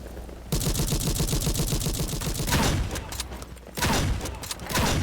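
Gunfire in the video game A.W.O.L., loud rapid bursts of repeated shots in a fast, steady rhythm, broken by a couple of short pauses before the firing resumes.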